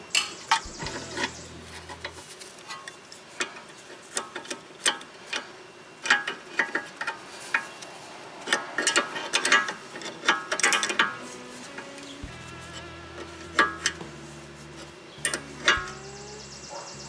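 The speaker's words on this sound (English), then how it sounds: "Now I'm just going to tighten out my jam nut." Tightening a tie rod jam nut with a ratchet wrench on a 2012 Chevy Malibu: rapid, close clicking of the ratchet in bursts between pauses, over faint mechanical background noise.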